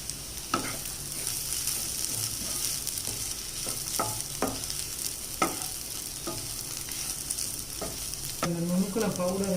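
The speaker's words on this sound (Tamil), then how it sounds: "இந்த நுணுக்கின பவுடரை சேர்த்து ஒரு 2 நிமிஷம் வதக்கி விடலாம்." Ground peanut, coconut and sesame powder sauté in a pan with a steady sizzle, broken by repeated scraping strokes of a spatula. A brief voice-like sound enters near the end.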